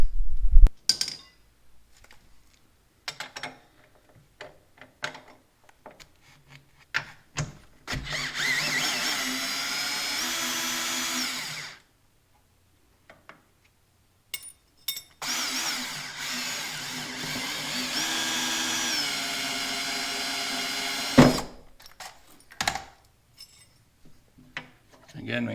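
Power tool undoing bolts on the skid of a Polaris MATRYX Indy VR1 snowmobile, two long steady whirring bursts of a few seconds each, with clicks and clanks of tools between them and no talk.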